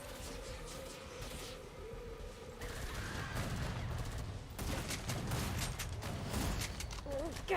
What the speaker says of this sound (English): And I shot a bloat there.